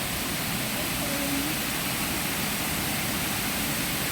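A waterfall in Japan roars in a continuous, broad hiss of rushing water, loud and close, unchanging from start to finish and with no voices over it.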